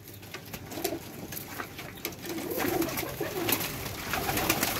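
Pet pigeons coo in a loft, a low continuous murmur with soft overlapping calls and background rustle, moderately close, with no voices.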